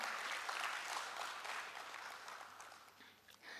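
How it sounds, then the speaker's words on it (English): Audience at a conference study meeting on capital markets claps in a steady round of applause. The clapping is moderately distant, holds for a few seconds and thins near the end. "kindly give a big round of applause for all the bigwigs present here"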